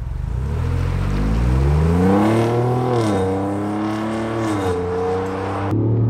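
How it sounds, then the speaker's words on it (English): A dyno-tuned 2021 Ford Bronco V6 with a Magnaflow exhaust revs up from a standstill, the engine note climbing through the gears in smooth rising sweeps, loud and close, with no talking. "pull away with about a third to half throttle so you can hear the exhaust a little bit"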